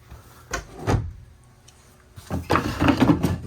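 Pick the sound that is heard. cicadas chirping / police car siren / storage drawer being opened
storage drawer being opened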